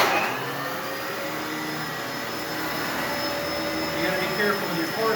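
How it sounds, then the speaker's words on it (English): A vacuum cleaner runs steadily while cleaning a hallway floor, a loud continuous whine and whoosh that swells slightly as the nozzle moves, with no pauses. "I might start turning my vacuum cleaner this way and doing a path from left to right"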